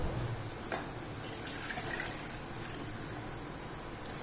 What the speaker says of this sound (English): So I'm pouring this into the milk pot.